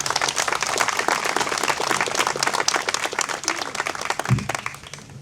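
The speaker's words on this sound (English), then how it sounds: "Give them another round of applause" Crowd at an outdoor Veteran's Day parade applauding, dense steady clapping from many hands with a few cheers, fairly loud and continuous, easing slightly near the end.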